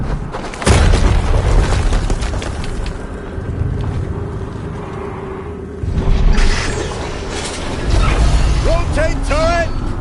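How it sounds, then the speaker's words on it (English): Booming explosions from the video game Horizon Zero Dawn Remastered, a sharp blast near the start and heavier thuds later, layered over rumbling game ambience and mechanical effects. "Another explosion."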